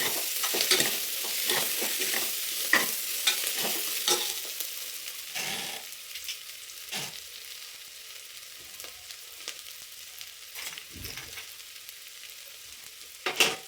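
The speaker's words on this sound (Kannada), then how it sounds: "ಈಗ ಅದನ್ನು ತುಪ್ಪದಲ್ಲಿ ಚೆನ್ನಾಗಿ ಹುರಿಬೇಕು" Ginger and garlic fry in ghee for a cracked-wheat pongal, a soft continuous sizzle broken by repeated scraping stirs of a spoon in the pan, close and alone.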